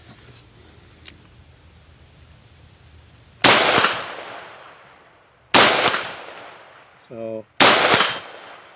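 Three loud, sharp rifle shots from a Springfield Armory Hellion firing steel case ammo at steel targets, spaced a couple of seconds apart, each with a long echoing decay across an outdoor range; a brief word is spoken near the end.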